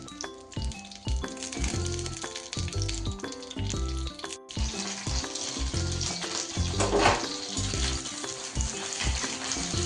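Green chillies frying in oil on a hot griddle, a loud, steady sizzle and crackle with occasional scraping as they are turned over, close by and with no voices.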